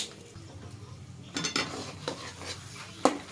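A spoon stirs and sautés a besan mixture in a pan, producing soft scraping and a few sharp clinks against the metal over a faint, steady background.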